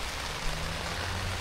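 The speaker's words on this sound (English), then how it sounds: "Listening to the rain outside." Heavy torrential rain drums steadily on the fabric of a hot tent, a dense continuous hiss with low rumble, close and even throughout with no voices.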